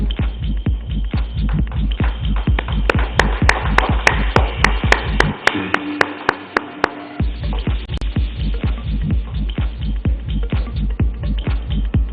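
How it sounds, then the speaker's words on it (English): Rhythmic clapping for award winners at a conference in a hotel, a steady series of sharp, evenly spaced claps like a small group clapping in time, briefly thinning in the middle. "A big round of applause for the winning team."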